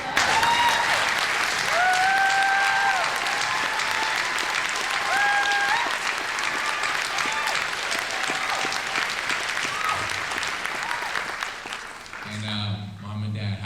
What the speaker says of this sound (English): ask them to stand so I can give them an applause